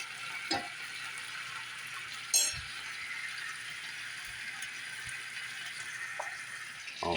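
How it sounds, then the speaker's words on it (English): Steak searing in a pan while being basted with Worcestershire sauce and butter gives a steady, moderate sizzle throughout, with a few sharp clinks of a utensil against the pan. "we can take some of that W sauce and butter and just baste the top of that steak"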